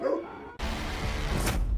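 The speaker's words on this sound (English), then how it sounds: "Dogs, they're coming." Dogs bark in a quick burst after a brief pause, loud and near, with yips and a whimpering edge layered over a steady noisy background.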